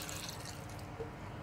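Water poured into a glass jar while making a seriguela liqueur, a soft steady trickle and splash heard close and alone for about a second and a half.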